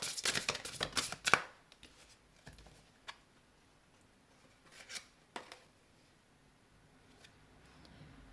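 Tarot cards riffle and slap in a quick flurry at the start, then a few soft, isolated snaps and rustles as single cards are drawn, all faint and close.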